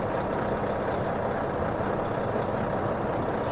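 A semi truck hooked to a trailer holds a steady, loud diesel engine rumble during a tug test. The rumble is continuous and close with no speech over it.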